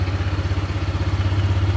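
Small scooter engine, fitted with a new tyre and left standing for a month, idles steadily after starting, with a loud, close, even putter.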